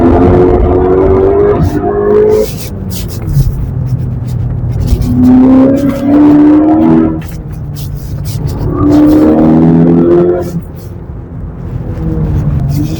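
A Volkswagen Golf 6 GTI Edition 35 engine revs hard while driving, loud and close, with rising and falling pitch sweeps over a deep rumble.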